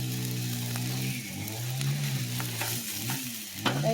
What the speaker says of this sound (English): You scrape your rice like this